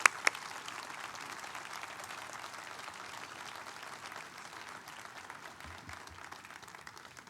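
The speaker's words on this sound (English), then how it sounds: "I just wanted to have everybody here give Burke a round of applause" Steady, broad applause from an audience at an awards plenary, a dense wash of clapping lasting several seconds at moderate level with no talk over it.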